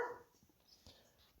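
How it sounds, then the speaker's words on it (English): Dogs playing indoors in the background, a brief, faint bark followed by soft yips and scuffling at a distance. "My dogs are playing around. Sorry about the noise in the background."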